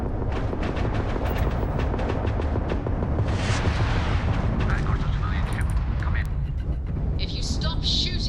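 Spaceship weapons firing in the Starfield video game, a dense barrage of rapid blasts and booms rolling continuously and loudly, with voices talking over parts of it.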